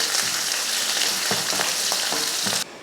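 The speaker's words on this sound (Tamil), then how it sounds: "இதை வதக்கிடலாம்." Sliced large onion sautéing in oil after mustard seeds, curry leaves and dried red chillies, a dense close sizzle with a few soft stirring scrapes, cutting off abruptly near the end.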